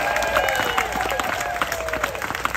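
Audience applause and cheering at a live concert at Hopmonk Novato, a steady wash of clapping from the crowd that carries through the whole stretch with scattered whoops and raised voices mixed in.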